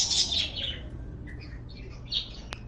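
Alien bird calls from No Man's Sky: a flurry of high, bright chirps and squawks up close at the start, then scattered shorter tweets over a low ambient hum, with one sharp chirp near the end.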